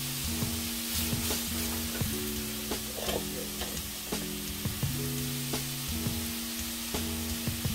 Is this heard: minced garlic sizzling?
yes